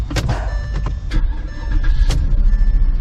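Porsche at a dealer-only auction cranking and starting, short whirring bursts and clunks as the engine catches, then settling into a rough close rumble.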